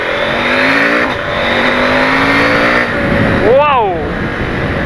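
KTM 890 Adventure motorcycle fitted with an AliExpress exhaust pipe, revving loudly up close: a rough droning idle with a few throttle blips, then a sharp rising-and-falling rev near the end, under a voice talking.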